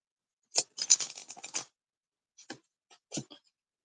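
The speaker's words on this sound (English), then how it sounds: "So I'm shuffling the cards on my lap here," Tarot cards are shuffled on a lap in quiet surroundings: a burst of quick papery riffling and scratchy flicks, then a pause and a few softer, scattered card shuffles.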